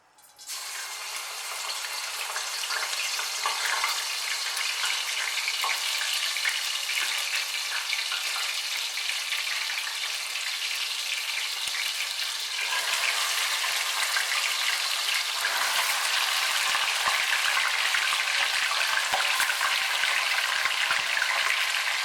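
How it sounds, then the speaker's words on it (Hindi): Chicken frying in ghee with garlic and ginger for a chicken korma, giving a steady, loud, continuous sizzle and crackle that lasts the whole time without pause, with no talking. "ये मैं लहसुन अदरक डालकर इसको भून रही हूँ चिकन को"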